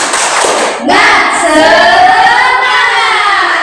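A classroom of students standing together does a rhythmic spirit clap, a burst of loud hand claps and a collective shout. The group sound is close and fills the room, then it trails off into a sustained cheer.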